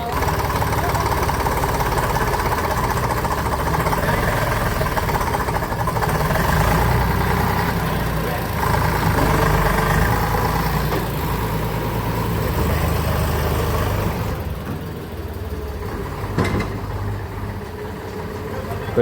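A fully loaded tractor's engine runs with a loud, steady low rumble for a long stretch, then drops in level as the tractor departs, leaving a quieter idle-like drone.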